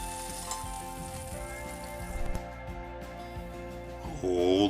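Sausages frying in a pan for Yorkshire pudding, a soft continuous sizzle and crackle, quiet and close, with a brief louder swell near the end.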